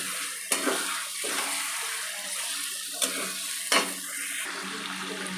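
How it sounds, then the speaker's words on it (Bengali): Chicken gizzard and liver masala with Kashmiri chilli powder fries in a pan under a constant hiss. Several sharp scrapes and clinks of the stirring spoon cut through it. "এবার আবার একটু নেড়ে চেড়ে নেব। খুব ভালোভাবে মিনিট 5-10 এটা কষাতে হবে।"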